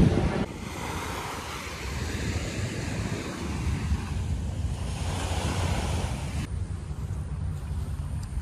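Waves wash steadily onto a beach in Singapore during a cleanup, a continuous broadband surf roar with wind buffeting the microphone, no voices.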